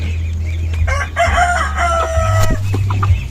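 Hens cluck close by on a farm while a rooster, left alone in the coop, lets out a drawn-out crow over a steady low hum, with no talking.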